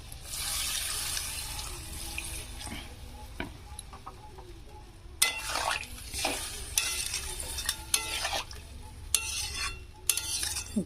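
A vegetarian pumpkin and potato curry simmers in a pan with cinnamon, clove and cardamom after water is added, giving soft bubbling and sizzling broken by scraping stirs and utensil clinks near the end.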